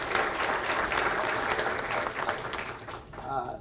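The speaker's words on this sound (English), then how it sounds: "Round of applause, please." Steady applause from an audience fills the whole stretch, dense clapping that fades slightly toward the end.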